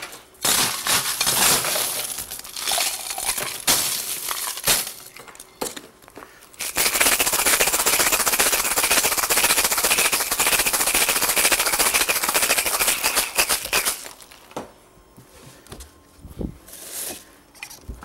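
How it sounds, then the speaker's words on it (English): A cocktail shaker full of ice is shaken hard while mixing a Monstre Verte cocktail with basil, giving a loud, rapid rattling that runs in two long bursts with a brief pause between and then fades out. "And we're going to shake that up."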